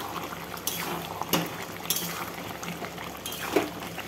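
Mutton boiling in the water released from the meat, a steady close bubbling and simmer with a few clinks of a utensil against the pot.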